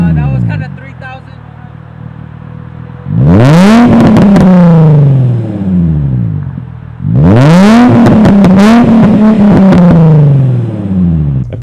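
A Nissan VQ engine car's single-exit exhaust revs hard twice, each rev surging up then settling into a throaty drone, loud and close, with idle rumble in between.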